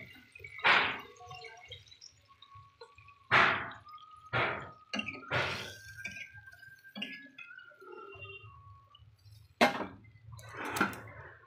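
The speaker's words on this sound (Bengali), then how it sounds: "এর মধ্যে আমি একটু জল দিয়ে দিচ্ছি" Water splashes into a cooking pan of boiling liquid in short bursts, with a few clatters and thumps, and a faint hissing tone runs underneath.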